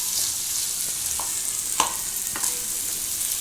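Tomato and curry leaves sauté in a pan with a steady close sizzle, broken by a few light scrapes of stirring, and no voices over it.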